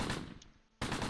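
Dense automatic gunfire from the World War II strategy game Close Combat Gateway to Caen, a loud rapid burst that trails off briefly before another burst starts abruptly.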